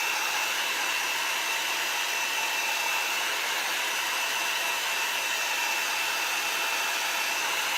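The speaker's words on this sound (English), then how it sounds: "because I'm using a heat gun" A heat gun blows steadily at close range, a loud continuous hiss with a faint high whine, unbroken throughout.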